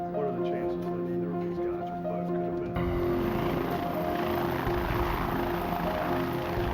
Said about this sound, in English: Arizona Department of Public Safety helicopters retraced the guard's scheduled route.